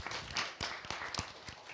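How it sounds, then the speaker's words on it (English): Scattered hand claps from a small group at a national startup competition semifinal, uneven and fairly close, with a roomy background hum. "give him a big applause,"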